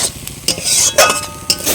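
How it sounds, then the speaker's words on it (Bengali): Masala fried with almond paste is stirred in a pan for a vegetarian cauliflower dish, giving a few sharp scraping clinks of a spoon against metal over a light sizzle, close by and without talk. "বাদাম পেস্টটা দিয়েও কিন্তু মশলাটা খানিকক্ষণ কষিয়ে নিয়েছি"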